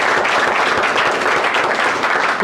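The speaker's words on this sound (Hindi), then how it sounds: "एक बार सर के लिए ताली बजा दीजिए" Audience clapping at a motivational event in India, dense and steady throughout, loud and close with no pauses.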